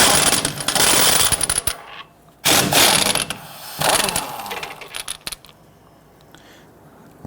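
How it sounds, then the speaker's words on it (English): Four 14mm bolts holding the rear wheel hub on a 1992–1996 Toyota Camry are loosened and removed, with loud bursts of ratcheting and metallic clicking at close range, separated by quieter gaps and a brief clatter near the end. "Go ahead and put that through and loosen and remove these bolts."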